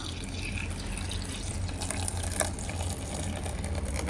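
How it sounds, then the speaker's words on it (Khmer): Water pours into a dishwashing soap mixture in a continuous close stream with faint splashes and trickles, steady and alone without voices. "ឥឡូវនេះខ្ញុំចាក់ទឹកទៅទាំងអស់"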